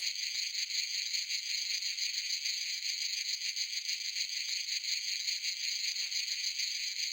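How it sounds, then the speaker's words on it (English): Cicadas buzz in the indie horror video game C.H.A.I.N.G.E.D., a dense, high, steady shrill chorus with a gently pulsing texture that runs throughout without pause. "Got the cicadas."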